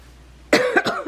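A single burst of coughing, two or three rough hacks close to the listener after a moment of quiet.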